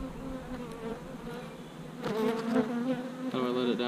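Bees swarm around an open beehive, their dense buzzing steady and close, swelling louder in the second half as more insects pass near.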